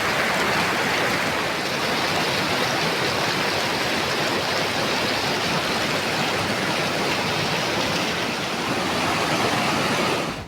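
A Himalayan mountain stream and waterfall in Himachal Pradesh pour in a steady, dense rushing roar of flowing water, close and constant throughout with no voices.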